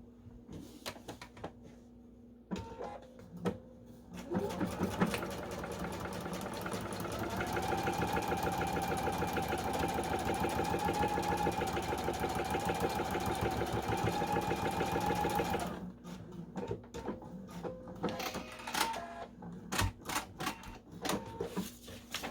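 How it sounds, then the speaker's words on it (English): A sewing machine stitches quilt blocks steadily for several seconds with a rapid mechanical rhythm, starting and stopping with small clicks and handling noises around it. "back to the sewing machine."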